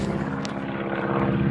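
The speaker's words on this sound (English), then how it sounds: "how does that plane fly?" A propeller airplane passes overhead, its steady engine drone holding at a constant, moderately loud level for the whole short stretch, with no voices.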